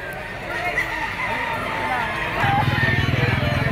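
A Picom yellow-legged gamefowl rooster crows at a market in Lipa, Batangas, a short strained call partly under someone talking nearby, with steady background bustle and a rhythmic engine-like rumble.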